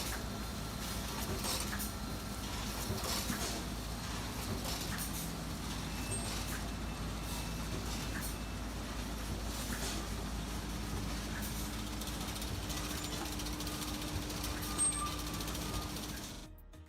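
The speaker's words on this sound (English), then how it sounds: "This automatic filling machine dispenses cream with filling and aggregates with an adjustable filling volume" An automatic ice cream filling machine runs steadily with a continuous mechanical hum and faint clatter, dispensing cream and filling into boxes at adjustable volumes in a factory line.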